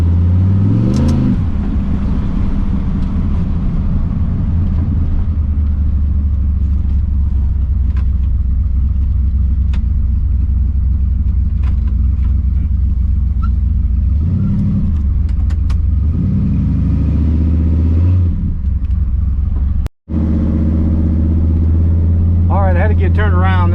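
A 1979 Ford F100 pickup with a 408 stroker V8 and a stall converter drives hard, its loud close engine rumbling and revving in several surges that rise and fall, with a voice speaking over it at times.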